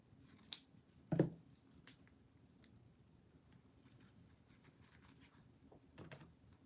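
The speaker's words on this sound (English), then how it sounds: "let's trim these ends a little bit of this ribbon." Scissors snip ribbon ends for a Christmas star decoration, two or three quick close cuts early on against a quiet room, then faint small handling sounds.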